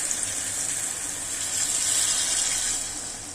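Strained tamarind water pouring in a steady, continuous stream, close and fairly loud, with a slight swell in the middle before easing off.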